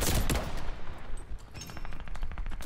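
Call of Duty: Vanguard multiplayer rifle fire rattles out in a loud, rapid burst, then continues as lighter repeated shots and distant gunfire.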